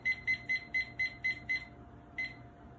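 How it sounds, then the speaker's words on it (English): A kitchen timer being set for 15 minutes gives seven quick, evenly spaced high beeps, then a pause and one more beep. The beeps sound close and clear over a quiet kitchen. "Timer sets for 15 minutes."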